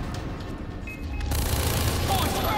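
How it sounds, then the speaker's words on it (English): Machine gun firing in the video game Far Cry 3, a dense continuous rattle of rapid shots that grows louder and fuller halfway through and keeps going to the end. "Love machine gun."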